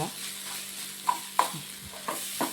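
Ivy gourd stir-fry being stirred in a pan, a spoon scraping and tapping in a few sharp knocks over a soft steady sizzle, close by and moderately loud.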